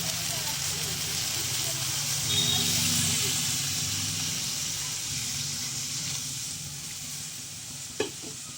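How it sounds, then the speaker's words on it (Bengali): Water poured into a pan of frying bamboo-leaf fish curry sets off a steady, close hissing sizzle that swells briefly and then settles, with one sharp knock near the end. "এবার আমি জলটা দেব।"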